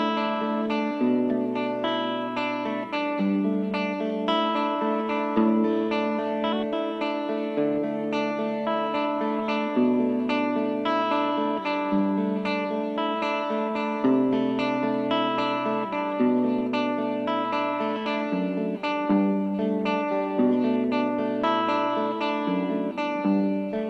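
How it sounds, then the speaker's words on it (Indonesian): An electric guitar is played through a booster pedal, bright and forward. A steady strummed and picked chord pattern repeats in an even rhythm, with sustained notes, alone and moderately loud. "Kalau misalnya kita menggunakan pedal booster akan terdengar lebih lebih ada menonjol gitu ya."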